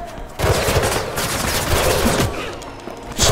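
Bursts of rapid gunfire fill a scene in the Mirror's Edge Catalyst video game, dense crackling volleys starting abruptly and running almost continuously, loud and close with short gaps.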